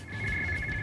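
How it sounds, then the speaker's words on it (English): A steady electronic warbling tone of raw binary data from a balloon transmitter, with a bright high pitch, continuous and fairly loud, like a modem or radio data signal. "is the data, the raw binary data, coming back from the transmitter"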